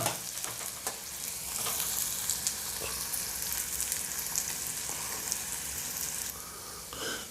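Onions frying in a pan on a high gas flame, a steady close crackling sizzle with stirring scrapes throughout, no voices.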